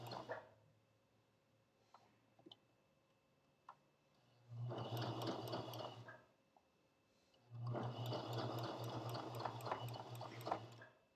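A sewing machine stitches through a thick fabric bowl cozy in two steady bursts of whirring, each a few seconds long and close by, separated by a quiet pause with faint clicks.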